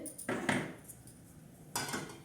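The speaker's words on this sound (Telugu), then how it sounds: "నేను మూకుడు పెట్టేశాను" A metal wok set down on a stove, two short clanks close by with a brief rattle, quiet between.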